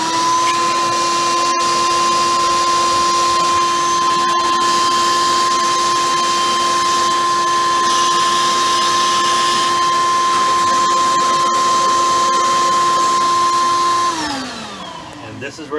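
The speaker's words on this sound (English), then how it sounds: "press the old shop vac, and we're just going to vacuum it out." A shop vacuum roars loudly with a steady, high-pitched motor whine for about fourteen seconds while cleaning out a boat engine's manifold area, then spins down and fades out.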